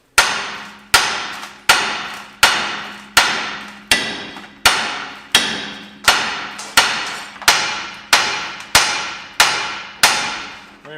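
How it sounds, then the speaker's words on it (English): A hammer strikes the lower ball joint on a 1997 Ford F250, about sixteen sharp, ringing metal blows at a steady pace. Each rings out briefly before the next, loud and close. "we once again take the hammer and strike the sides of this lower ball joint"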